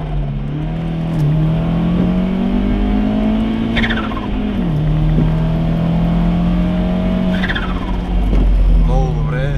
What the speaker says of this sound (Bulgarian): нека да запишем един звук от ускорение